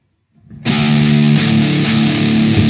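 An electric guitar in drop D tuning, run through distortion, plays a sustained, loud chord that starts abruptly after a brief silence and rings on alone.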